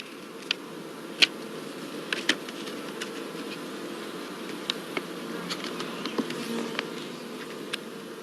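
Honeybees buzz softly around a small mini-nucleus hive, a faint steady hum broken by brief clicks and taps close by, with no voices.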